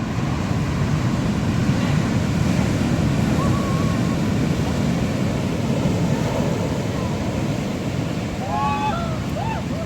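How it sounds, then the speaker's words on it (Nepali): Big Atlantic Ocean waves break on a Portugal beach in a steady, loud surf roar with wind rush, and faint voices call out briefly near the end. "ल अब ठुलो छाला आइसक्यो है"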